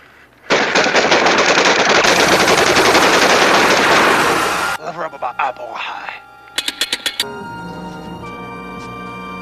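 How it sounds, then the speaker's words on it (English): A stolen Gatling gun is test-fired by bandits at their fortress in a kung fu western film, a loud sustained rattling burst lasting several seconds, followed by scattered shorter bursts and a few sharp cracks. "He finds them gleefully testing the stolen Gatling gun."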